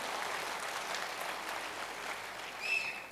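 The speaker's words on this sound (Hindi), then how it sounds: "जो चाहता है दिल से तालियां।" Audience at a crown diamond celebration event in Rajasthan applauds, a steady, faint wash of clapping heard from a distance with no talk over it.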